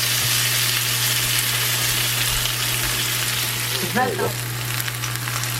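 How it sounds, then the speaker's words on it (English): A seitan roast sizzles steadily in a hot pan with butter, a loud continuous frying hiss that stays constant throughout, with a brief spoken word near the end. "Listen to that sizzle of that seitan roast"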